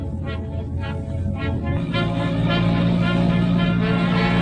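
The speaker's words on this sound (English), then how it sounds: "There's a car following us." A 1930s motor car drives behind on the road, its engine a steady low drone throughout, growing slightly fuller in the second half with no talk over it.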